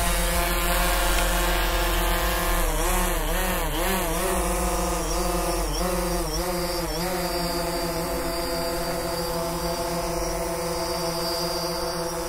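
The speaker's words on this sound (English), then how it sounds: "So I want to land the drone right here." A DJI Phantom 3 drone hovers close by while being brought in to land, its rotors giving a loud, continuous buzzing whine whose pitch wavers up and down as it maneuvers, with no talking.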